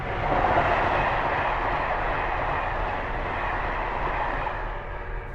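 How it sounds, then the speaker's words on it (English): Steady rumbling roar of a train running along the rails, close and fairly loud, a continuous broadband rush with no voices, easing slightly toward the end. "at least it's a quiet train"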